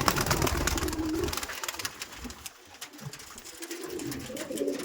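Madras-type tournament pigeons in a Belgharia loft give low, rolling coos, droning on and off against a rough, noisy background with brief quieter gaps.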